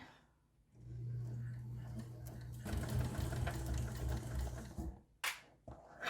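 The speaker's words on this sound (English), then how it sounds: "I'm going to base stitch this about 1/4 inch from the top" A sewing machine base-stitches a messenger bag a quarter inch from the top edge, a steady close mechanical whir running for several seconds, then stopping with a few short bursts near the end.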